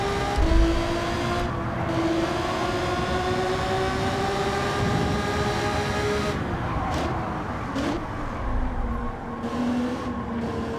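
Engine of an Alfa 155 DTM race car in Gran Turismo 7, a steady harmonic drone whose pitch bends and shifts with revs, sustained over rumbling road noise, with brief gear-change dips and no talk.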